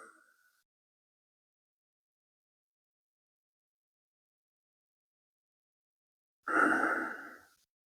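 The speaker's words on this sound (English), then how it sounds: "Breathe in and breathe out." A person breathing during a chi kung breathing exercise: a soft, brief breath at the very start, a long silence, then one clear, fairly close exhale near the end.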